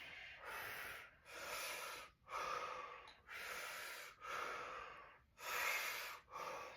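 Deep breathing during a fascia exercise while holding a squat, six slow, loud, airy breaths in a steady rhythm with brief gaps between them, close to the microphone and with no speech.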